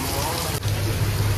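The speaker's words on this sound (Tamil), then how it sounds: "மழை இன்னும் நிக்கிற மாதிரியே தெரியலங்க." Heavy rain pounds a deep-sea fishing boat, a loud steady roar of drops with a low engine-like rumble beneath, briefly dipping midway, while someone speaks over it.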